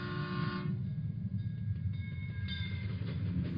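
Train sound effect in a spoken ghost story, a steady rumbling carriage drone with a sustained horn tone layered over it, loud and unbroken for a few seconds without any talking.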